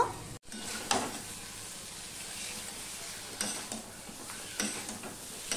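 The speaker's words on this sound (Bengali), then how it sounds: "এবার আমি এটাও কষিয়ে নেব।" Ingredients for a fish curry sizzle and fry steadily in a pan, with a continuous close hiss broken by occasional stirring scrapes and clinks of a utensil against the pan.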